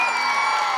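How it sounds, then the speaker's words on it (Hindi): A crowd at the Bhuru Nag Devta fair cheering and whooping, a brief loud burst of mixed voices in a dense, continuous wash. "एक बार ये अपने लिए तालियां"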